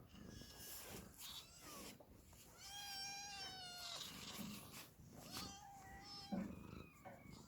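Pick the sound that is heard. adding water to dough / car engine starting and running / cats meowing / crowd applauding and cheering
cats meowing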